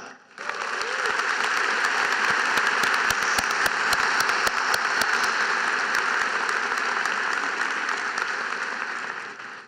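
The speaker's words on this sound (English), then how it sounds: "I'd like you to join me in a round of applause honoring all that Alex has done" A full crowd applauds at a university law school commencement ceremony, dense steady clapping that starts abruptly and holds at an even loud level throughout, with no voices over it.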